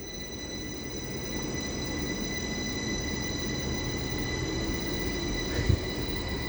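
Rail noise from a passing train on the East Coast Main Line at Leeds, heard as a steady broad rumble with a whining tonal hum above it, a brief clunk near the end, and no speech.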